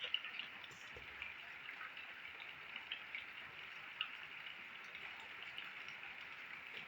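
A faint, even patter of light rain continues steadily throughout, soft and distant, with no voices.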